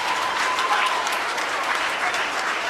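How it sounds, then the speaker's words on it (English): A theater audience at a Jamaican comedy play claps steadily, dense and loud, with no breaks across the short stretch. "Give yourself a wonderful round of applause."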